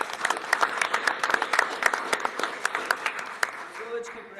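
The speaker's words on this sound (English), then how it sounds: "give them a round of applause" An audience at a village board meeting claps for a senior living property owner being recognised, with bursts of sharp, uneven hand claps mixed with a voice.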